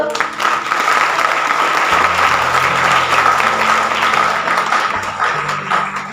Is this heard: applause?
yes